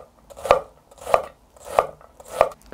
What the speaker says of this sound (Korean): 양파는 4분의 1개 정도 다시겠습니다.